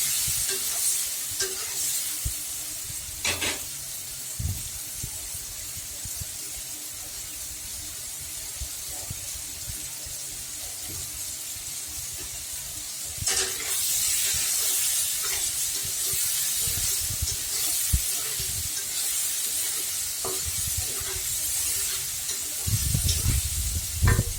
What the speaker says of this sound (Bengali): লবণ দিয়ে দিচ্ছি, আর একটু মরিচের গুঁড়ো দিয়ে একটু হালকা ভাজবো, খুব বেশি ভাজবো না